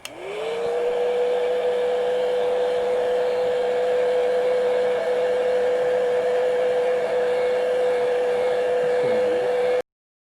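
A hair dryer drying base coat paint on a nail design blows at full power with a steady, loud, even whine for nearly ten seconds, then cuts off abruptly, with no talking.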